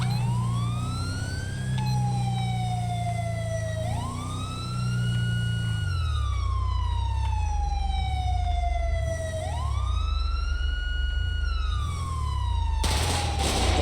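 A police car siren in GTA V with the LSPDFR mod, not a CHP siren, wails in long rising and falling sweeps over a low engine rumble, loud and continuous.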